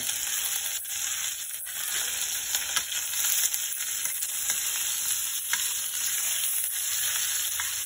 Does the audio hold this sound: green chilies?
yes